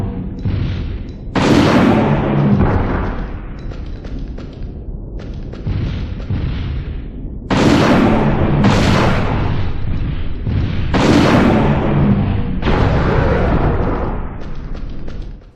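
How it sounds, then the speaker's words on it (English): Bombs dropping onto dinosaurs in Dino Crisis 2, a string of heavy, booming in-game explosions bursting every few seconds, each with a sharp onset and a rumbling tail, loud and close. "using flares to target bombs onto the heads of dinosaurs"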